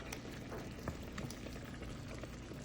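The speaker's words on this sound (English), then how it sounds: "now we gotta let that simmer for a few more minutes" Pork chops simmering in a pan give a quiet, steady bubbling, with soft liquid pops scattered throughout and no voices.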